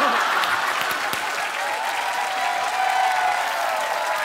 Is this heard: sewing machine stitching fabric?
no